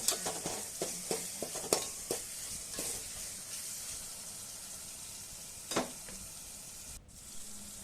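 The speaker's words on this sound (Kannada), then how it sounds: "ಈಗ ಮೆಣಸಿನ್ಕಾಯಿ ಅದನ್ನು ಸ್ವಲ್ಪ ಫ್ರೈ ಮಾಡಬೇಕು" Green chillies frying in a pan, a steady close sizzle with scattered sharp stir clatters early on and one louder scrape near the end, no voices.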